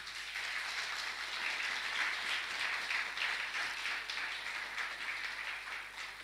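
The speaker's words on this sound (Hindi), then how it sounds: "ताली बजाएंगे पवित्र आत्मा के लिए" Church congregation at a Sunday service clapping for the Holy Spirit, a dense continuous wash of many hands applauding, fairly loud and steady for several seconds.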